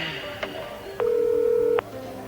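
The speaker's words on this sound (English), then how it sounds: "I dialed my own number." A landline telephone being dialed: a short tone, then a dial tone, then a sustained steady tone lasting under a second, heard alone in a quiet room.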